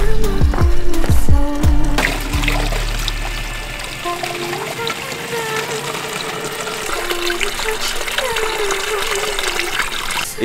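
Drinking water running from a roadside tap in Greece into containers, a steady splashing, trickling flow after a few loud knocks and clunks at the start, close and continuous.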